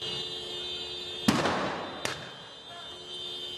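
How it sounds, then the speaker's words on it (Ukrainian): A car explodes mid-traffic at a Kyiv intersection: a sudden loud blast followed by a second sharp bang, with crackling debris fading into a humming background. "За кілька секунд автівка вибухає."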